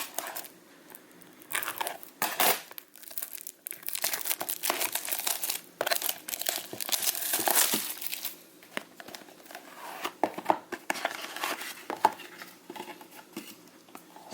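Plastic wrapping torn and crinkled off a baseball card hobby box: close, irregular crackling and ripping with a few sharp tears, fairly quiet, no speech.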